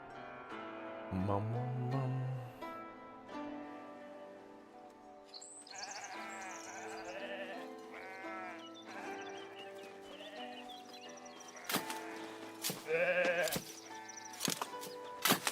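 Sheep bleat in the medieval city-building game Foundation as they are sheared for wool, one loud bleat early on followed by softer bleats and clattering game sounds over background music.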